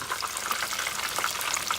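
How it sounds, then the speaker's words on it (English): Oil crackles and sizzles continuously as chicken fingers deep-fry at 375 degrees, a dense, steady bubbling hiss up close. "For frying, it's all about the 375 action."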